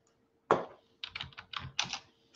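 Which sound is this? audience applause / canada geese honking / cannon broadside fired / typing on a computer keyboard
typing on a computer keyboard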